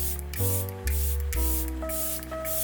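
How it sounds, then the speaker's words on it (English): Finishing setting spray misted onto a face in a few short, close bursts, each a soft airy hiss separated by brief pauses, with no talking. "just like finishing setting spray."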